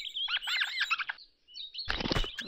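Rats in the video game Tomb Raider 2 give a run of quick, high chirping squeaks that sound birdlike, followed after a short pause by a louder, broader scrabbling burst.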